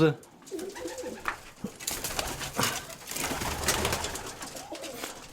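Pigeons cooing softly nearby, low throaty calls over a noisy, busy background with some rustling.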